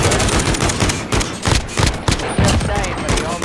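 Rapid gunfire in a Call of Duty multiplayer lobby, close, loud repeated shots in quick uneven bursts through the whole stretch, mixed with game noise.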